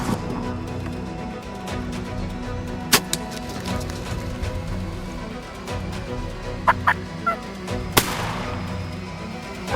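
Turkey gobbles sound in bursts, mixed with sharp loud cracks resembling gunshots, against a steady outdoor hum, as hunters use fake calls to lure turkeys.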